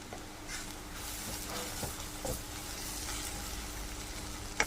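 Garam masala and spices frying in a pan for Kerala-style pork fry, a soft, steady sizzle with faint stirring scrapes, quiet and continuous, ending in a small clink.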